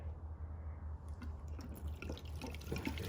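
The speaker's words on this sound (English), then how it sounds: "Give him a good soak in some petrol." Petrol poured over a rifle bolt for cleaning: a quiet, continuous trickle of liquid with faint drips and small splashes, heard alone at low level.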